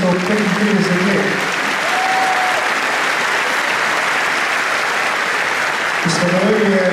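An audience at a Slovenian folk ensemble event claps in sustained, dense applause lasting several seconds, with a voice speaking briefly at the start and end.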